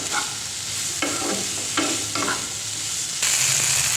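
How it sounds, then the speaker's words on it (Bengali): Tomatoes and potatoes stirred in a pan with cumin powder, a spoon scraping in repeated strokes over a steady, close frying sizzle, no talking. "একটুখানি জিরের গুঁড়ো দিয়ে নেড়ে চেড়ে টমেটোটা গলা পর্যন্ত ওয়েট করবো"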